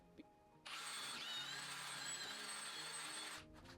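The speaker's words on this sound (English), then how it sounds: "I am going to use the 5/16 inch drill bit as I did on the front legs." Power drill boring pilot holes with a 5/16 inch bit into a table leg, a steady whining run of about three seconds starting after a brief quiet, close and loud.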